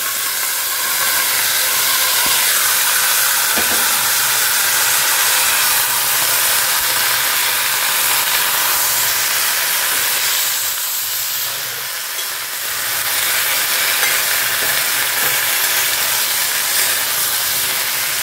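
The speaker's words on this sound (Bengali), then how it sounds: "আবার একটু তেল গরম করে এইগুলো দিয়ে দিচ্ছি।" Vegetables fry in hot oil in a pan for a home-cooked Bengali family recipe, giving a loud, steady, close sizzle and hiss that runs throughout, briefly easing then rising again, with no talk.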